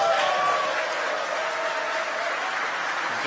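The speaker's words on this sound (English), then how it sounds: "You can hear the applause behind us." Sustained applause from spectators watching a SpaceX Falcon 9 first stage land after the Crew-4 launch at Kennedy Space Center in Florida, a steady wash of clapping heard from a distance with some crowd voices, holding even throughout.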